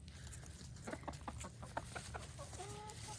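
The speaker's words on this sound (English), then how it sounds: "Good job, chickens. They're doing a great job spreading it out." Chickens cluck and scratch while spreading pine straw in a garden, giving soft scattered clucks, short calls and light rustling patter, faint and a little distant over a steady outdoor hush.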